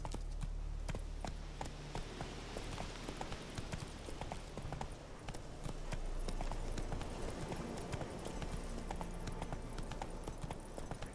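Roach the horse gallops in The Witcher 3, hooves clip-clopping in a quick, steady rhythm throughout, fairly quiet, with faint game ambience underneath.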